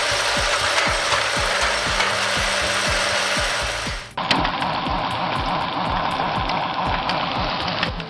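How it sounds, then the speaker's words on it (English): A firewood processing machine with a high-speed cone splitter and mechanical feed runs steadily, producing a loud continuous grinding roar with rapid rhythmic ticking and rasping; partway through, the tone abruptly shifts to a slightly lower, rougher grind. "This dual-function wood processing machine integrates a high-speed cone splitter and mechanical feed system, delivering rapid, efficient firewood production."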